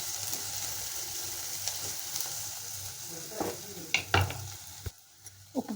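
Onions sauté in a pan with a little salt, a steady soft sizzle underneath occasional scraping and clinking as they are stirred, close and fairly quiet with no talk.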